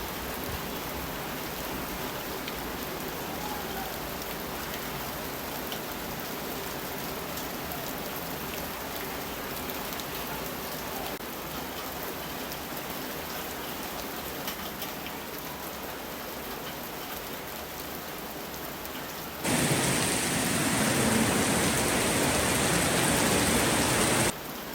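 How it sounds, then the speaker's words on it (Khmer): Heavy rain pours steadily in Svay Rieng, Cambodia, a dense, even hiss with no voices that grows noticeably louder and harsher for the last few seconds. "ឥឡូវនៅស្វាយរៀងមេឃកំពុងភ្លៀងខ្លាំង"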